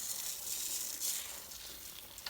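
Rice dusted into a pot of cabbage roll soup as it sizzles, a steady soft frying hiss close by with faint stirring and no talking.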